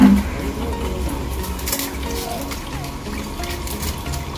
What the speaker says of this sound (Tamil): அடுத்து தண்ணி ஊத்தி கழுவிக்கிறோம்.